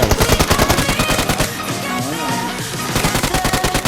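Rapid bursts of automatic gunfire in PUBG Mobile, loud and close, with fast repeating shots, a short lull, then more firing.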